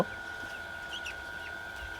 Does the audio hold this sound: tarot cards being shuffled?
no